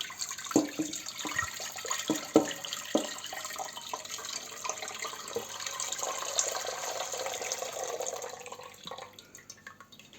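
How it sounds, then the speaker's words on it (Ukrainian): Liquid from a jar of preserved apples trickles and splashes into a pot, with a few clinks at the start, then a steady quiet pour. "накриваю кришечку і зливаю у каструльку"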